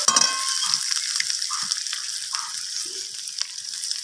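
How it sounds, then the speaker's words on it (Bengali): Green chili spice paste frying in a pan for a bottle gourd and egg dish, a continuous close hiss of sizzling oil with occasional soft stirring knocks. "এরপর দিয়ে দেব চিড়ে রাখা কাঁচা লঙ্কা মশলাটাকে আমি এইভাবে একটু কষিয়ে নিচ্ছি"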